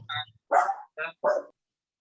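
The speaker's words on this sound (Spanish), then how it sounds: "que sentía unos ruidos. Sí, hay un perro ahí" A dog barks four times in quick succession, sharp and fairly close, with brief silent gaps between barks and no talking.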